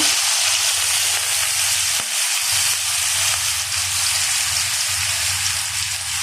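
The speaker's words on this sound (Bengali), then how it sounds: "এখানে তেল দিচ্ছি মাল্লা আলুটা ভেজে নেব" Potatoes fry in oil, making a continuous dense sizzle that stays loud and even throughout, close up, with no voices over it.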